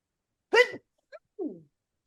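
A single sharp sneeze bursts out close by, followed by a tiny sniff and a short, soft vocal sound trailing off.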